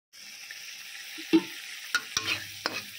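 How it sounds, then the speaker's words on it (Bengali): Spice paste sizzles in a pan after a splash of water, with a low steady fry broken by several sharp scrapes and stirs of a spoon against the pan, close up and without talk. "জল দিয়েও মশলাটাকে আরও কিছুক্ষণ খুব ভালো করে কষিয়ে নেব।"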